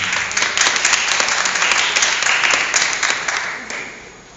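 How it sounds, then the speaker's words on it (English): An audience claps hands together in a hall during a motivational talk, a dense sustained round of applause at full volume that thins and fades toward the end, with no talking over it. "Clap your hands if you're ready to stop that cycle."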